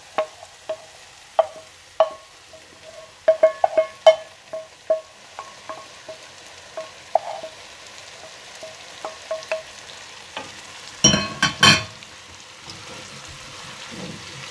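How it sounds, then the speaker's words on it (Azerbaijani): Fried onions are tipped onto cooked beans in a pot and stirred, giving scattered light ticks and taps of a utensil, then a brief louder clatter near the end, with no sizzle and no talk. "Soğanımız da belə qovrulduqdan sonra bunu lobyanın üzərinə əlavə edirik"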